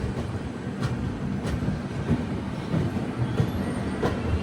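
The Gatimaan Express passenger train, hauled by a WP4 locomotive, rolls from New Delhi toward Agra with a steady rumbling drone and faint rhythmic clacks of wheels on the rails, heard from inside a carriage.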